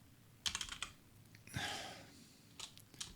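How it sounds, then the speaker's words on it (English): Typing on a computer keyboard while building a management system in Scriptcase: a short burst of quick key clicks, a brief clatter, then a few isolated taps near the end, close and fairly quiet with no talk. "my typing is awful today"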